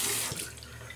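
Warm water is poured or wrung out into a shaving bowl, a short splashing trickle that is strongest at the start and then settles to a quieter dribble, heard alone.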